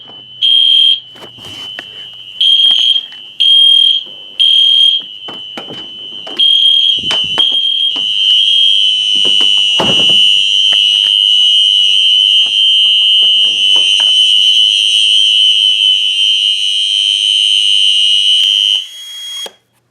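A UMMT fire alarm sounds continuously during a system test: loud, close, steady high-pitched tone, starting as a pulsed pattern of short bursts before settling into an unbroken sustained alarm with a brief thump midway.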